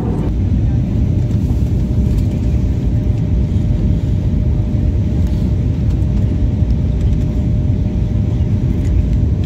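Airplane cabin noise during a flight from Goa to Kolkata as the plane comes in to land, a loud, steady, low engine rumble and roar filling the cabin continuously.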